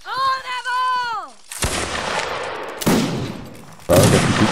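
Volleys of musket gunfire ring out in the Napoleonic-era battle game Mount & Blade: Napoleonic Wars, with several loud, sharp crackling bursts following one another after a brief tonal sound at the start.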